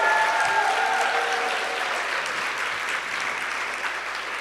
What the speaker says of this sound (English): could we give Samantha a round of applause?